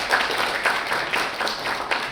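A seminar audience claps in a short burst of applause that stays fairly even and moderately loud for a couple of seconds.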